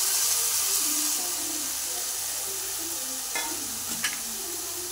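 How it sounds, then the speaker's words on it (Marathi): Chopped ridge gourd stir-fried in hot oil over a high flame sizzles steadily, with a few clinks of the spatula against the pan toward the end. "1-2 मिनिट चांगलं तेलामध्ये मोठ्या गॅसवर चांगलं परतून घ्यायचं आहे"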